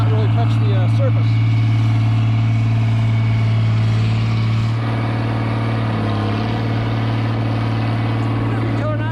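A race track prep vehicle's engine drones steadily and loudly at close range, its pitch shifting midway as it changes gear and gains speed, with a voice talking over the running engine.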